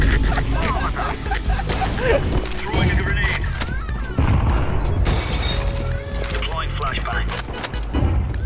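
Sharp, rapid bursts of Counter-Strike 2 gunfire crackle in quick succession with loud impacts, dense and continuous, alongside game effects and talk.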